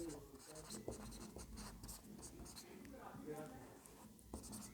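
Chalk or marker writing on a board during a class-10 maths lesson, a soft scratchy tapping of short strokes heard faintly under a teacher's ongoing speech.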